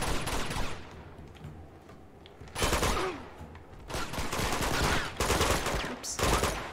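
Bursts of gunfire from the Uncharted 2: Among Thieves Remastered video game, several loud volleys separated by short gaps, with a steady background of game noise between them.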